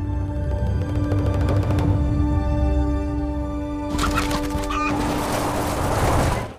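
A rooster clucks amid a loud film trailer mix, the bird sounds short and mid-distance and partly masked by music and other effects, with no talking.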